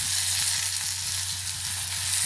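Masala sautéing in a pan for a Maharashtrian prawn and okra curry, a steady close hiss of frying oil with faint stirring scrapes throughout, no voices.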